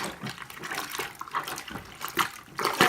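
Cloth diapers being hand washed in a bucket with a lid, water sloshing and churning in irregular splashing bursts, close and fairly loud, growing stronger toward the end.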